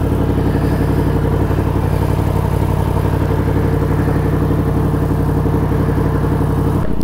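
Engine rumble of passing cars, including BMW M3s and Porsches at the Zoute Grand Prix, a steady, dense mechanical drone held loud and constant throughout with no talk.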